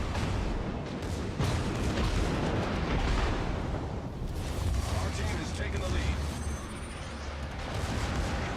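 Naval secondary gunfire in World of Warships around the French battleship République, a continuous rumble of booming shots and explosions under steady commentary talk, fairly distant and dense throughout.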